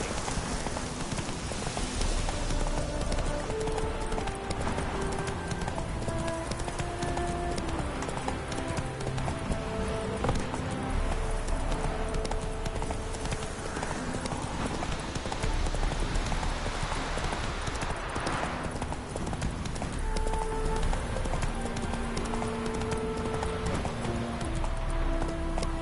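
Hooves of Roach the horse in The Witcher 3 clip-clop in a steady rhythmic trot that runs throughout, clear and continuous, over a soft rain-like ambient wash and faint game music tones.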